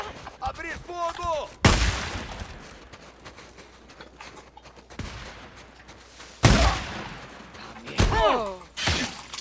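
Gunfire in the video game Days Gone, with loud bursts of shots at a couple of points amid shouting voices and other game noise.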